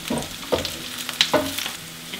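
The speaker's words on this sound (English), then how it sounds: "you saute the vegetables so that hopefully both the pasta and the vegetable are done at the same time" Vegetables sautéing in a pan for pasta primavera, a soft steady sizzle broken by a few short scraping stirs and clicks of the utensil, close and fairly quiet, with no talking.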